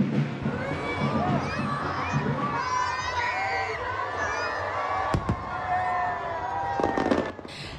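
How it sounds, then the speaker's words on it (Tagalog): Fireworks burst over Jones Bridge in Manila during a grand Chinese New Year display, with continuous crackling and booming pops over a busy crowd of cheering voices and children shouting, and a sharp louder bang near the end. "Sa isang engrandeng fireworks display at drone show, sinalubong ang Chinese New Year sa kahabaan ng Jones Bridge sa Maynila."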